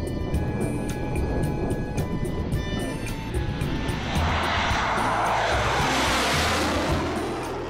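A Russian MiG-29 fighter jet flies spectacular maneuvers, its engines producing a loud, continuous roar that swells into a broad rushing wash as the aircraft passes.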